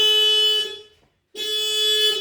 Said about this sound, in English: it will start making this noise and hooting